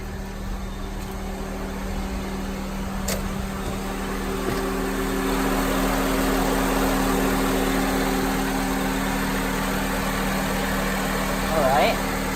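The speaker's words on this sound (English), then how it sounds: "All you have to do is just start the engine." An 8th-generation Honda Civic engine idles after a spark plug replacement, giving a steady, even hum with a faint mechanical drone and a small brief noise near the end.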